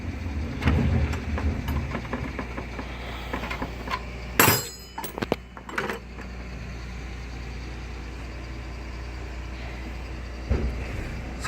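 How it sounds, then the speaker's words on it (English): A bin lorry rumbles past outside with a low, steady diesel drone, punctuated by a brief clatter and a few knocks partway through before the engine noise settles back to a constant hum. "That's the bin lorry coming through,"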